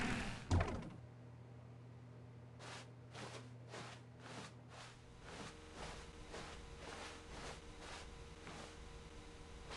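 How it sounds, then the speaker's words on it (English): A door opens in The Stanley Parable video game: a single soft thunk near the start, then a steady low hum with a series of faint rhythmic taps. "When Stanley came to a set of 2 open doors, he entered the door on his left."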